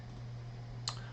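One brief click of a computer keyboard key while drafting in Onshape CAD software. The press is faint and sits over a steady low electrical hum.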